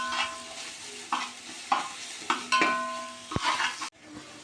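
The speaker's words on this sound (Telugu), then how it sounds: "పచ్చిమిర్చి ఒక 4, ఫ్రెష్ అల్లం వెల్లుల్లి పేస్ట్ వేసుకొని ఒక్కసారి కలుపుకోవాలి." Green chillies and ginger garlic paste sizzle in a pan as they are stirred for a chicken mandi. Rhythmic spoon scrapes come roughly every half second over a continuous close frying hiss, with no talking, and the sound cuts off abruptly near the end.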